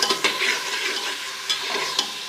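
Beef karahi with fatty, bone-in meat being stirred in a pan, a steady sizzle under scraping strokes with a few sharper clicks of the spoon against the metal, close up and without voices.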